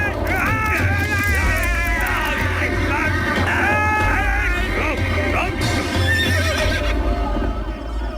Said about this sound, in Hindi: घोड़ा भाग रहा है।